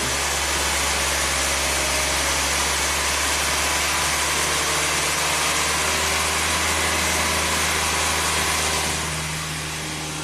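A Hyundai car engine revs in a workshop, a loud continuous roar holding steady for several seconds before easing down slightly near the end, with no speech over it.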